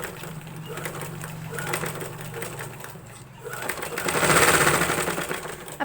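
Sewing machine stitching a frock, with a steady rhythmic mechanical whir running in bursts and swelling louder toward the end.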